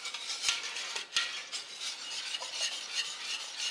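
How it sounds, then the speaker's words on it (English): Chicken giblet gravy being stirred in a pan, a continuous scraping, swishing rhythm of a utensil against the pan with two sharp knocks near the start, close up and with no voices. "just keep on stirring"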